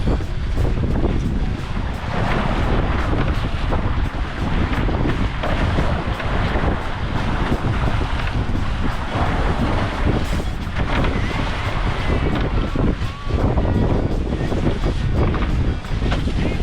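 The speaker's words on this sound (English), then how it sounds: "all the waves just splash in the engine well" Strong wind buffets the microphone with a steady, loud roar while waves wash and splash around a sailboat crossing open sea toward Guadeloupe, running under sail alone, without its engine, as the dense rushing noise continues throughout without any voices.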